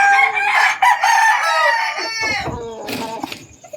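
A pet rooster crows loudly and close by in one long drawn-out call, followed by a few softer clucks and rustles as it trails off.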